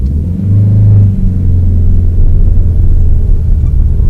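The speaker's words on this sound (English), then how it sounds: "Car starts to move." Manual car pulling away from a stop in first gear, a loud close low engine rumble rising as the throttle opens and then holding steady as the car starts to move.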